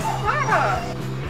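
A pet dog barks and yips in short excited bursts with whimpering tones, close and loud, after an apple is dropped indoors during a bouncing-ball experiment.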